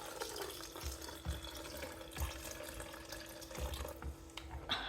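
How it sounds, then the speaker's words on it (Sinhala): Water pours steadily into a blender holding freshly grated coconut, a close, soft trickling with a few small knocks and splashes scattered through it. "ඔන්න මම දැන් එකට වතුර දාගන්න යන්නේ"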